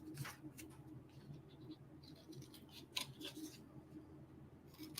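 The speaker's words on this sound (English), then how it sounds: "And I'm just trimming." Scissors snip quietly and repeatedly through a paper cutout for a mixed media craft, a string of small close cuts in a hushed room.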